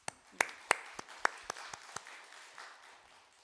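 Scattered claps from a church congregation at a Sunday service, a dozen or so distinct sharp hand claps over a soft wash of applause that thins out toward the end.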